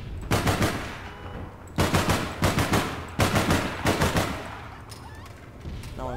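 An AK-style rifle fires in the online shooter APB Reloaded in loud, rapid bursts of automatic fire separated by short pauses, with a few quieter shots near the end.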